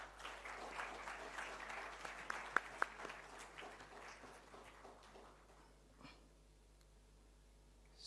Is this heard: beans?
no